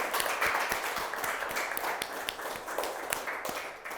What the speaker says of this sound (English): I think we can give another big round of applause for everything you've done.